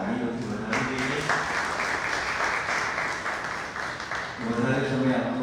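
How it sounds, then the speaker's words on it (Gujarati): Audience applause at a Gujarati literary talk and book-discussion gathering, a steady wash of clapping that fills the hall for several seconds, with some tonal voice or music sounding at the start and end. "આ બંને વ્યક્તિઓને આપણે ખૂબ તાળીઓથી વધાવી દઈએ."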